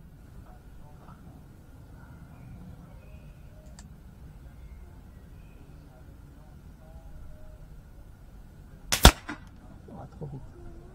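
A Beeman P17 air pistol fires a single sharp, loud shot at a 20 m target, standing, amid quiet room tone with faint background noise.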